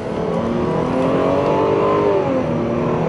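Lexus GS300 sedan fitted with a Toyota Supra engine accelerating hard, a loud steady engine roar that climbs in pitch through the revs from inside the car, with no talking.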